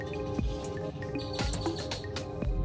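Birds chirp and twitter outdoors in short, repeated, overlapping calls, bright and fairly close, against a steady background hum.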